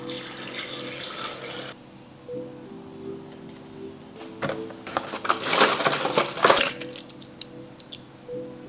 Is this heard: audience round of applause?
no